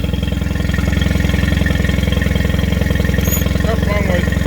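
A Mercury 20 HP outboard boat motor runs close by at a steady idle with a fast, even putter. A faint voice is heard near the end.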